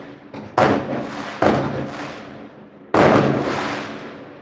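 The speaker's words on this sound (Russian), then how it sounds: "Прям под окном салюты у нас." Fireworks burst right outside a window below, three booming blasts spaced a second or more apart, each leaving a rumbling, crackling tail that fades slowly.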